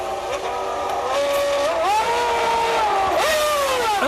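Formula 1 race cars from the 1996 season scream past at high revs, engine pitch rising and shifting through gears, loud and continuous with a passing surge near the end.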